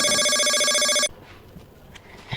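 A phone rings with an incoming call: a steady, bright electronic ringtone carries on loud and close for about a second, then cuts off abruptly, leaving only quiet room noise.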